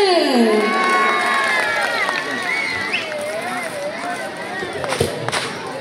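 A crowd cheers and shouts in a busy, sustained roar, with children's voices and bright whoops riding over the noise and a few sharp claps near the end.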